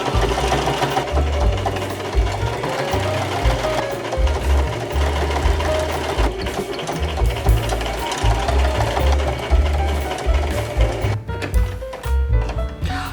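Sewing machine stitching a hem on a homemade top, a steady close rhythmic whirring and thumping that runs continuously before slowing near the end.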